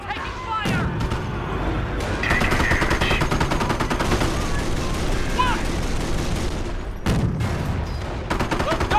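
Dense, continuous small-arms and machine-gun fire rattles through a World War II battle in Company of Heroes: Tales of Valor, rapid bursts with heavier booms underneath and shouted radio voices over the clatter.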